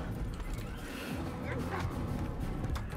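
A horse in the video game Assassin's Creed whinnies over galloping hooves and dense game noise, a loud, busy mix throughout.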